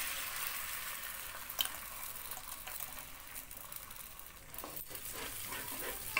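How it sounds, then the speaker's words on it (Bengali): Salted beaten egg fries in a pan for egg chowmein, an even, close sizzle with faint crackles and a few small knocks, and no one speaking. "এবার এই ডিমটাকে ভেজে নিচ্ছি"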